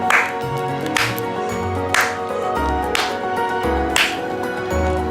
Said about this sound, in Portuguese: onde é preciso bater palmas 5 vezes para entrar